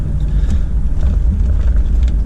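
Land Rover Discovery 2 with an upgraded VNT turbo and stage 3 remap, driving along; a loud, steady low engine rumble from inside the cabin with no talk.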